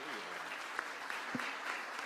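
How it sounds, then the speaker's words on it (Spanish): An audience claps after a talk on journalism, a soft, diffuse patter of many hands at moderate distance, with a few voices murmuring over it. "Vamos a darle un aplauso a él."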